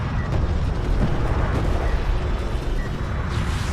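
Rockets in a strategy video game hit a bunched cluster of units, producing a loud, continuous rumbling barrage of overlapping explosions with deep booming low end that stays sustained throughout.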